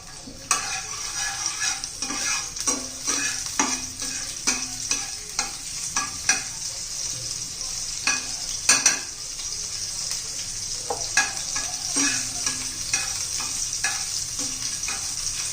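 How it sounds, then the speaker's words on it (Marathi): Garlic and green chili crackle and sizzle steadily in hot oil in a pan, with frequent sharp taps and scrapes of a stirring spoon against the metal. "आता त्याच्यामध्ये आपली लसूण आणि हिरवी मिरची घालून घ्यायची."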